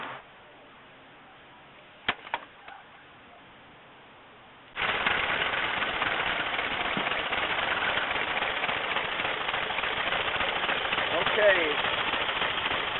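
A 1909 Chase truck engine starts up after a quiet stretch with a few knocks and then runs on, a loud, steady, rapid chugging that carries to the end, with a brief spoken word early on.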